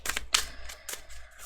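Crisp bursts of tarot cards riffling and slapping together, several quick flurries in a row, close by with no talking.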